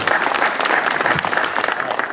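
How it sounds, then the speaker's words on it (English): Wedding guests break into dense, steady applause that fills the whole moment at close range, with no speech over it. "Give her a round of applause."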